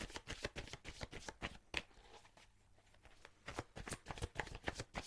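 Tarot cards are shuffled close up in rapid, crisp riffling bursts, pausing briefly midway before resuming a quick flapping rhythm; no talking.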